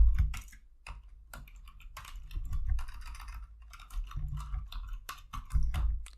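Rapid clicking keystrokes on a computer keyboard as commands are typed into a server command line, in uneven bursts with brief pauses, close and moderately quiet with no speech.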